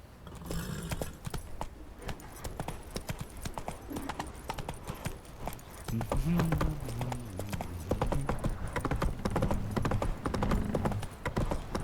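Horse hooves clip-clop steadily at a walking pace in The Witcher 3: Wild Hunt, with a faint whinny and soft background ambience.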